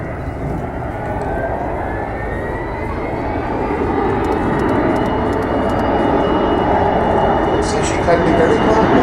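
Avro Vulcan XH558 bomber passing at Farnborough Airshow with its landing gear down, a broad, loud roaring engine wash that swells steadily as it flies by, with faint crowd voices in the background.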